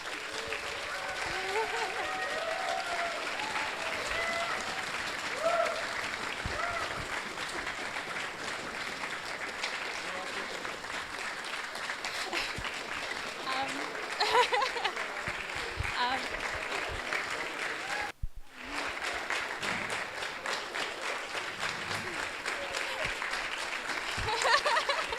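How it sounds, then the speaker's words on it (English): A crowd gives a big round of applause for an event's organizing team, sustained clapping lasting over twenty seconds with scattered voices and light laughter mixed in and a brief dropout partway through. "So please, big applause for the OC team."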